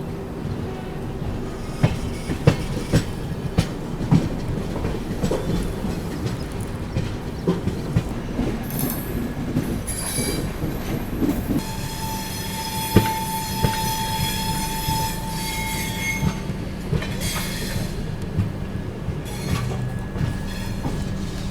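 Suhaildev Superfast Express train rolling into Aunrihar Junction, a steady heavy rumble of wagons with wheel squeals and a sustained tone from the track, close and continuous throughout.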